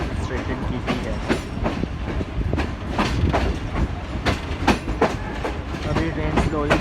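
The Millat Express rolls slowly out of Sargodha, its wheels clacking in an irregular rhythm against a dense rumble, heard loud and close from on board.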